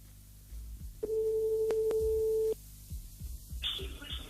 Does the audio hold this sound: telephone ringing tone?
yes